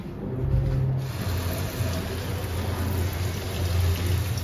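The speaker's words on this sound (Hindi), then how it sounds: "थोड़ा सा पानी डाल देते हैं" Water is poured onto potted plants that have dried out in the dry season, producing a steady splashing trickle that lasts for about four seconds, close and fairly loud.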